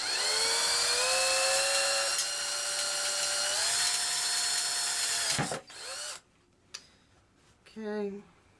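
An electric drill whines at high speed while boring a hole through a transmission valve body plate on a 2003 Escalade 4L65E. The pitch dips once under load, then the drill stops abruptly, followed by a few faint clicks and short rattles.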